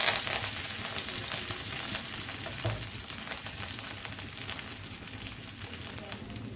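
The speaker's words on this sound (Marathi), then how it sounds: "राई चांगलं तडतड झालं का लसूण घालून घ्यायचं." Mustard seeds crackle and garlic sizzles in hot oil while tempering spices for Maharashtrian vangyache bharit, a steady dense hiss with fine pops running throughout, close and moderately loud, no voices.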